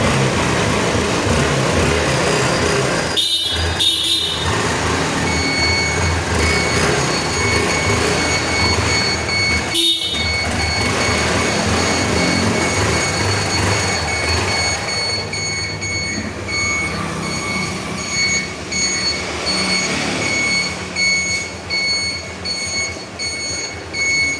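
A motorcycle engine running loud and close, a steady rumbling drone that continues throughout, briefly interrupted twice, then thinning slightly toward the end.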